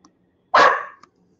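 A single sharp dog bark rings out close and loud, followed by a faint short yip.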